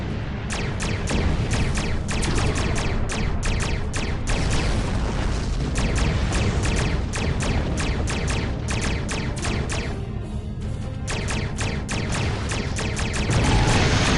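Exploding ships in a Star Trek video game on PS4: continuous rapid bursts of blasts and crackling booms pile up densely, loud and unrelenting throughout.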